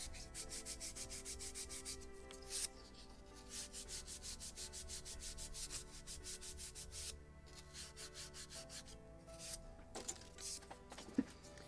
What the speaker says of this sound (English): now Scotch Brite polishing